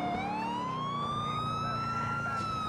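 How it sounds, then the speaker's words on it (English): A police car siren in the video game GTA IV wails steadily in a rising, sustained tone, loud and close, with no talking over it. "We got sirens."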